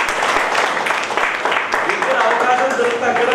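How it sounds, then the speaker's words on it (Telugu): Audience applause at a Red Cross society event for World Red Cross Day and thalassemia awareness, a steady dense wash of many hands clapping throughout, with a voice faintly mixed in. "అందరు గట్టిగా చప్పట్లు కొట్టాలి."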